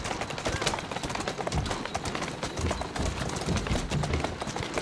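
Horse hooves clip-clop in a quick, steady rhythm throughout in Assassin's Creed Syndicate, close and continuous, with light scattered ambient noise around them.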